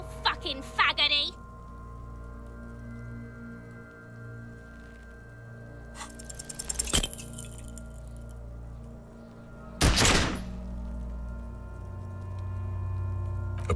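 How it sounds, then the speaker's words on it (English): A pistol firing in the video game Disco Elysium: a sharp, loud broadband shot bursts out over a low ambient drone, with a smaller crack a few seconds earlier. "A plume of smoke erupts from the barrel. Your hand goes numb from the explosion."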